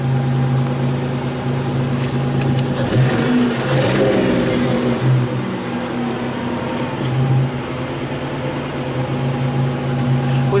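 A Buick Grand National engine idles steadily with its mass airflow sensor disconnected, a constant low hum with tonal bands running throughout, fairly close, with a brief rise in rough mechanical noise midway.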